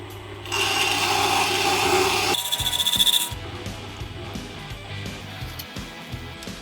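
Tormek T8 water-cooled sharpener's stone being dressed, a steady grinding rasp for about two seconds followed by a brief rapid chattering scrape, then a low motor hum with light knocks, close.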